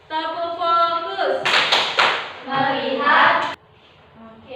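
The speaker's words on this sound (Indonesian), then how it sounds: "Ibu akan melakukan ice breaking tepuk fokus" A classroom of young children does the rhythmic clapping game 'tepuk fokus', sharp bursts of claps alternating with chanted voices, loud and close, ending in a quieter pause.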